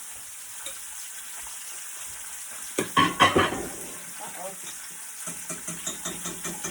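Bacon sizzles in a pan during country breakfast cooking, a quiet steady crackle with a burst of louder spattering and clatter midway, then faint rhythmic stirring taps; a voice briefly exclaims.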